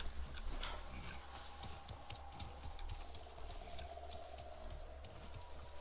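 A horse trots through the game world of Avatar Frontiers of Pandora, its hooves clip-clopping in a quick, steady rhythm over a low ambient rumble, close and clear, with no talking.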